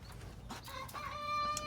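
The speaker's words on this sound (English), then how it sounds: "We've got a couple of our older chickens starting to crow." Older backyard chickens try out rough, wavering early crows with a few clucks, rising into a sustained strained call near the end.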